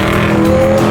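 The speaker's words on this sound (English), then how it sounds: "you know that you've succeeded with making your exhaust louder. Listen to that." A car exhaust with the mid muffler removed blasts out a loud, raspy, steady drone at close range, alone, for about a second.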